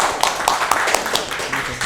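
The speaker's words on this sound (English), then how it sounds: "a round of applause for him" Brief applause from a small audience at a Toastmasters club meeting, a short burst of scattered claps rising and fading over a couple of seconds, close and moderately loud.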